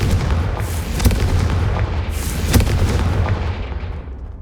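A Confringo fire spell fires in the Hogwarts Legacy video game, giving loud booming blasts with a sharp hit near one second and another near two and a half seconds, over a steady low rumble with no talk.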